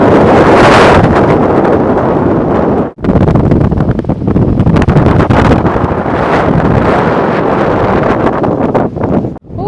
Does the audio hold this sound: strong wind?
yes